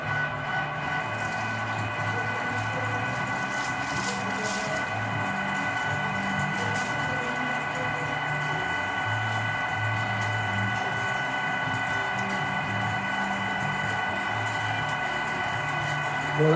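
Meat grinder running a second grind of venison mixed with soft trim fat, a steady mechanical hum with churning, pulsing motor tones that continue throughout at moderate level.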